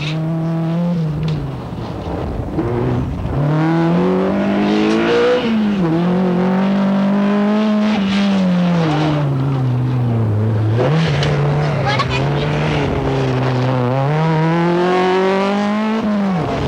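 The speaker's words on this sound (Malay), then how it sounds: "Kereta jenis Suzuki Swift." Suzuki Swift rally car racing on a rally stage in Negeri Sembilan, Malaysia, its engine revving hard through rising and falling gear changes, loud and close, with a voice speaking over it.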